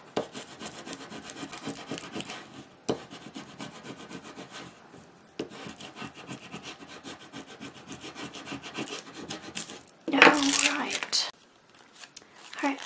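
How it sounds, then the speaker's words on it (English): Rubbing strokes burnish an adhesive sticker onto a paper craft page, a steady run of close dry scraping and rubbing with short pauses and a louder crinkling burst near the end. "Now I'll just burnish this down here."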